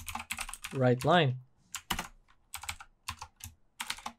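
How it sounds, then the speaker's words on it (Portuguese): Typing on a computer keyboard while writing code, with short bursts of close, crisp key clicks separated by pauses, after someone speaks briefly at the start. "Se eu digitar aqui"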